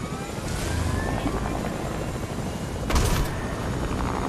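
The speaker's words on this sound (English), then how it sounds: "let's take the heli." Helicopter rotor drone in the video game Fortnite, a steady broadband whir that runs throughout, with a short louder burst near the end and faint voices under it.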